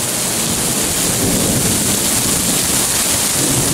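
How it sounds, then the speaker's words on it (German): Heavy rain pours down in a thunderstorm with hail and flooding, a loud, dense, constant roar of water hitting surfaces nearby, unbroken for the whole stretch. "Hier kommt ein Wasser runter,"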